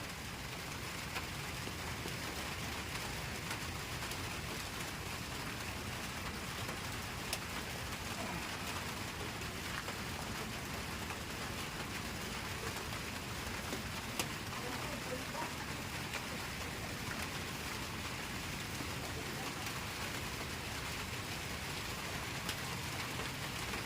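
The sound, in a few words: rain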